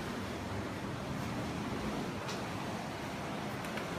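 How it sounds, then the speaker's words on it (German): Rough Indian Ocean surf in monsoon season off the coast at Colombo, Sri Lanka, roars as a continuous broadband wash, steady and fairly loud with no distinct breaks between waves. "hier ist das Meer, der Indische Ozean"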